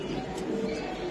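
Racing pigeons in a loft give a brief, low cooing call close by, muffled within a dense, steady background noise.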